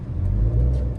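A car's engine revs steadily during an uphill hill start, a close, sustained low rumble with a slight whir, held at constant throttle without talk.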